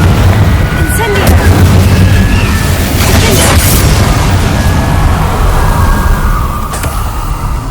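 Fire spell explosions in the Hogwarts Legacy video game, a continuous loud rumbling blast with booming bursts and bright crackles layered over game music and effects, with a spoken voice in the mix.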